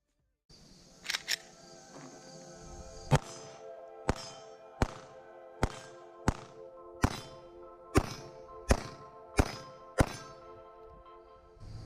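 About ten gunshots from a Smith and Wesson SD9VE 9mm pistol at a range, evenly spaced roughly every three-quarters of a second after two quick opening shots, each a sharp loud crack with a short ringing tail.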